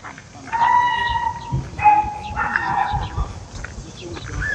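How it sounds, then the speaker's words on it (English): A few distant honking, barking calls ring out outdoors at an animal farm over quiet background rustle, a dog barking among geese and ducks. "It sounded like I heard a dog."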